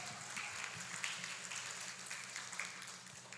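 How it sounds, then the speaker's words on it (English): An audience at a university speech competition applauds, a dense wash of many hands clapping at a distance, steady and fairly faint with no talk over it. "Give applause to UNP Kediri."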